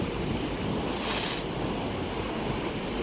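Loud night surf rushes steadily onto a rocky coast, a continuous roaring wash with heavy wind noise on the microphone and a brief brighter hiss near the middle.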